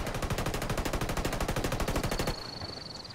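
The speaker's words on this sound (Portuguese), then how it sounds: "Cuidado, estão atirando em mim." Automatic weapon fire in a Ghost Recon PvP match, a fast, even burst of rapid shots lasting about two seconds, loud and close, then cutting off to a faint ringing tail.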